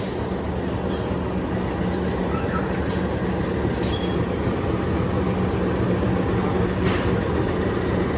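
Cikuray economy class passenger train on the Bandung–Jakarta line, heard from inside as a loud, continuous rumble of rolling wheels on track with a steady drone and occasional faint clanks and squeaks.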